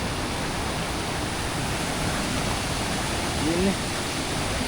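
Elamulla waterfall at Mandaram Nuwara, a steady broadband roar of falling water heard from nearby, constant and even with no breaks.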